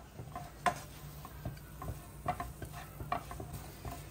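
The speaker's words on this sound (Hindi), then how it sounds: "ये चिकन जो हमने अच्छे से बटर में सौते करके रखा है वो हम इसमें डाल देंगे और इसे अच्छे से हम मिक्स कर लेंगे" Butter-sautéed chicken stirred into masala in a pan, giving scattered scraping and knocking strokes at an uneven pace over a soft, low sizzle, close by with no talking.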